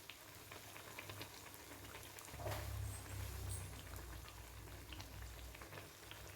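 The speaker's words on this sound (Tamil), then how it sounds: "பாருங்கள், சூப்பராக ஃப்ரை ஆகிட்டுருக்கு." Sweet potato appam frying in hot oil on low heat, a quiet, steady bubbling sizzle that swells briefly in the middle, with no voices.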